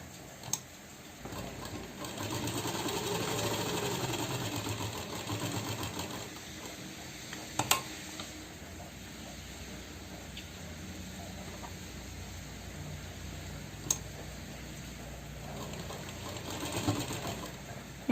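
A sewing machine stitches a velvet pheran, the fabric pieces joined at the armhole, running in a steady continuous hum for long stretches with brief pauses and a few sharp clicks, fairly quiet and with no talk over it.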